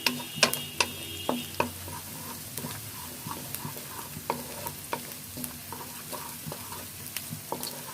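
Onion and spices are fried (bhuna) for achari begun with a light, steady sizzle. Close spatula taps and scrapes come in quick bursts early on, then thin out to scattered clicks.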